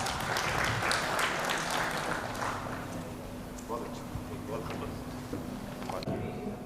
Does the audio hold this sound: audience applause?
yes